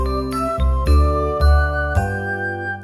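A bright, tinkling read-along page-turn chime for a children's snowman picture book rings out as four quick ringing strikes over sustained bell-like tones, clear and alone.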